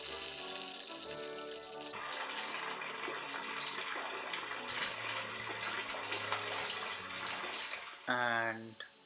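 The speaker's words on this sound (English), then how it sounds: "Let me just put a bucket to collect the water" Water from a drip irrigation timer runs steadily into a bucket, a continuous close splashing flow that persists for several seconds before a brief louder gurgle near the end.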